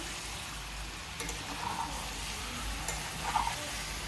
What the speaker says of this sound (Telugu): సాల్ట్ పసుపు అయితే వేసుకున్నాను కదండి చక్కగా అయితే కలిపేసుకుంటున్నా